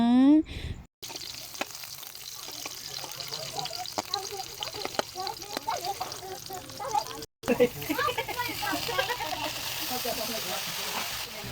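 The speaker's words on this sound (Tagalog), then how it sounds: "nilagyan ko na nga ng oil at inilagay ko na rin itong aking mini onion" Mini onions sizzle steadily in hot oil in a home kitchen pan, a continuous crackling hiss that runs on and on, briefly cut out once, with a soft voice talking over it.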